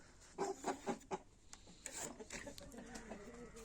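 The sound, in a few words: chickens and roosters clucking in coop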